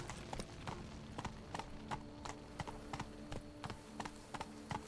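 Roach the horse's hooves clopping at a steady rhythmic pace in The Witcher 3 across the Toussaint countryside, soft and even, each footfall distinct against quiet game ambience.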